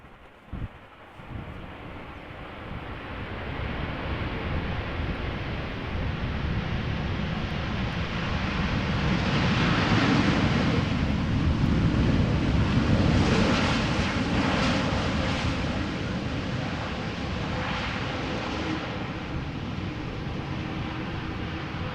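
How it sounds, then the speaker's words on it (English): A United Boeing 787-9 Dreamliner from San Francisco lands in gusty crosswinds at Amsterdam Schiphol, its broad engine roar and rushing air building to a loud peak midway, then easing off but lingering steadily, with no voices. "So this is a United Dreamliner 7879 arriving from San Francisco."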